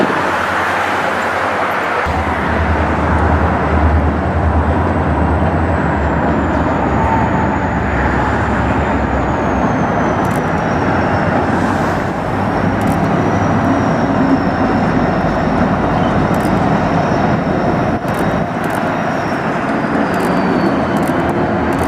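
Former Santa Fe SD45-2 diesel locomotive in Denver, a loud, steady engine roar and rumble filling the whole stretch, close by and continuous, with a faint high whine drifting above it.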